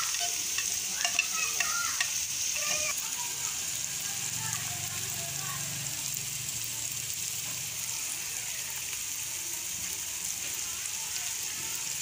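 Tomato being stirred into baingan bharta in a pan, a steady sizzle of frying with soft scraping stirs, loudest in the first few seconds and then settling into a continuous hiss.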